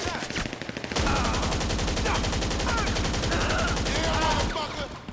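Automatic gunfire in GTA 5 Online empties a whole magazine in one loud, rapid, unbroken burst of closely spaced shots lasting about four seconds.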